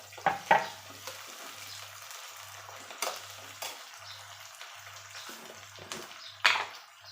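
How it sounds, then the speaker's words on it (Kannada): Tomato pieces stirred into a frying pan while cooking avalakki, with a soft continuous sizzle, a few sharp clinks of a utensil against the pan and a low steady hum underneath. "ಇವಾಗ ನಾನು ಈ ಟೊಮೆಟೊ ಹಣ್ಣನ್ನು ಹಾಕ್ತೀನಿ."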